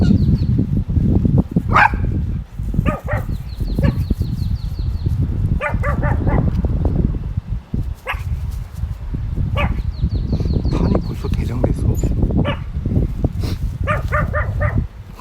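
Pomeranian dogs bark in repeated sharp, high yaps, some in quick bursts, close and loud over steady outdoor background noise.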